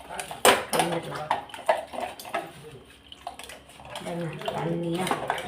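Rava dosa batter being stirred in a vessel, with scraping and clinking of a spoon against the pot and a watery slosh, heard close under someone talking.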